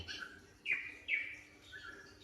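A caged songbird gives a few short, bright chirps close by, with quiet pauses between them and no voices.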